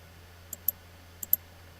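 Computer mouse clicks while navigating channel settings on a screen, four faint, sharp clicks in two quick pairs over a quiet, low background hum.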